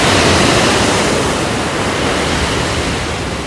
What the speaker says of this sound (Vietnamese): Ngoài này có khoảng mười mấy cái sóng á